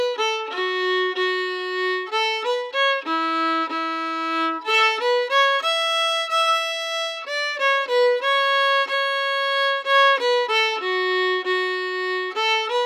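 Rubber Dolly played on solo fiddle at a quicker tempo, with brisk bowed notes in bouncy, repeating phrases, close and unaccompanied.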